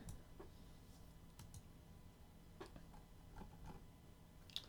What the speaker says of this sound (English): Heard me typing, clicking.